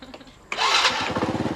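After a few faint clicks, a faulty motorcycle engine starts abruptly with a loud sputtering catch, then settles into a rapid, uneven putt-putt idle.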